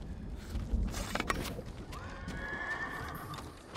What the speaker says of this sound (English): Where those horses come from?